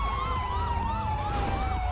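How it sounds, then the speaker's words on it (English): A police car siren in the video game GTA V wails close and loud, its rising and falling tone cycling steadily over a constant engine and road rumble, with no talk. "We need to turn off our sirens."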